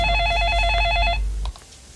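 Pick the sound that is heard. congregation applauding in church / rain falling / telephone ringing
telephone ringing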